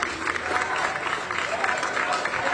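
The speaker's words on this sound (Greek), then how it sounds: "Ακούμε εδώ τώρα τα χειροκροτήματα." A welcoming crowd claps steadily outdoors as a politician arrives to vote, the applause continuous and moderately close with talk mixed in.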